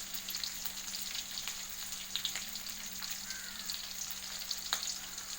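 Shallots frying in a pan give a low, steady sizzle with scattered small crackles and pops, heard close and without any voices.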